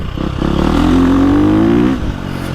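A 2025 KTM 350 XCF four-stroke dirt bike engine revs up loudly and holds a rising whine for over a second, then drops off sharply.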